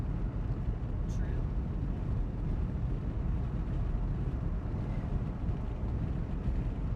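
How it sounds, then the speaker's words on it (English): Steady, loud wind buffets the microphone as riders travel on the road toward Arizona, a continuous low roar with no breaks and no clear talk. "the wind is hitting us in a different direction now"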